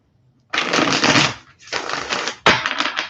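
Tarot cards being shuffled by hand in three quick riffling bursts, crisp and close, with no voices.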